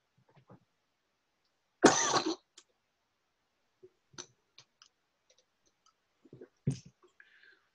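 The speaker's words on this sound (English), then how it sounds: "I'm having a little trouble with coughing." A person coughs in a strong burst around the two-second mark, followed later by a throat-clearing cough and scattered small clicks and mouth noises in an otherwise quiet room during an online Toastmasters meeting.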